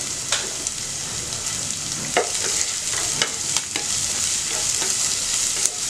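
Onion sizzles in hot oil in a frying pan while being stirred, a steady close hiss broken by scraping stir strokes, with no voices.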